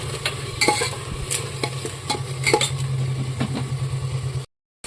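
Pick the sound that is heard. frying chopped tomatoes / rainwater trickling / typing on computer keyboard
frying chopped tomatoes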